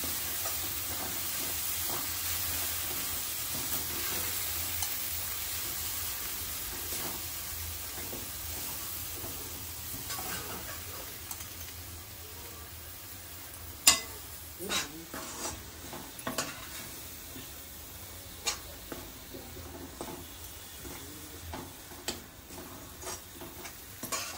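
Ground masala paste for mutton curry sautés with a steady low sizzle while a spoon scrapes and stirs it in the pan, with sharper clinks and scrapes toward the end.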